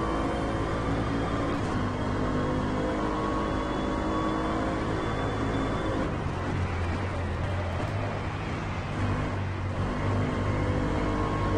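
A GT3 race car engine in the rFactor 2 racing game drones steadily and loudly throughout, a dense continuous roar with slight swells and no talking.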